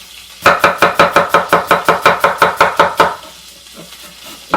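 An onion being chopped with a knife on a board: about fifteen quick, evenly spaced sharp knocks in a steady rhythm, close and loud, ending abruptly, then quiet.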